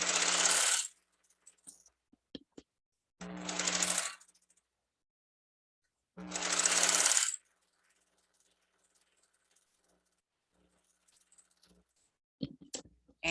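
A sewing machine stitches a half-inch hem around a lunch bag in three separate loud bursts of about a second each, with quiet gaps and small clicks between them.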